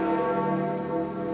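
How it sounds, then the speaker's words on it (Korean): Vatican church bells ring loud and sustained, a steady resonant peal with no voices over it. "바티칸의 종소리가 울려 퍼집니다."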